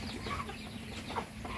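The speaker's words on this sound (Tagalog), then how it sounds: "Dito tayo ngayon sa ating munting manukan. Yan ang mga alaga natin mga farmer." Backyard chickens clucking continuously in a small coop, a steady, close murmur of hen calls with occasional sharper clucks throughout.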